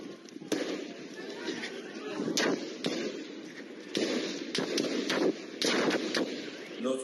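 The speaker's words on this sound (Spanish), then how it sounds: "Segundos después se escuchan 17 impactos más." A rapid series of gunshots rings out during a confrontation between soldiers and civilians, around ten sharp cracks at irregular intervals over a murmur of shouting crowd noise, loud and fairly close.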